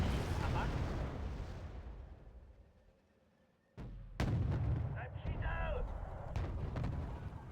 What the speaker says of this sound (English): I think it was the sound of some R2 artillery.